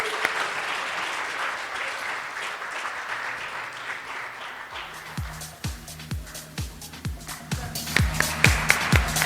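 Audience at a keynote felicitation ceremony breaking into applause: a dense murmur of voices gives way midway to sharp, distinct claps that grow louder and closer toward the end.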